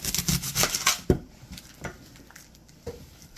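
A knife chops through the ends of an onion on a board, several quick crisp cuts at first, then a sharp thunk and a few sparse, quieter taps and scrapes, with no talking.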